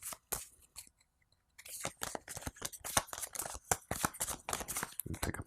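A deck of playing cards for a Call of Duty tabletop board game is shuffled up close, giving rapid crisp riffling and snapping bursts after a brief pause, continuing steadily to the end.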